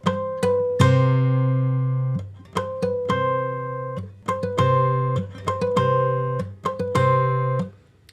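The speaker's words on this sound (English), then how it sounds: "pluck the open 5th string bass note to create that sound" Plucked acoustic guitar rings out with a deep open fifth-string bass note and bright bell-like harmonics, repeated in a steady rhythm, clear and close with no talking.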